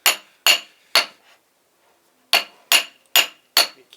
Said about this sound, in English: You keep hammering.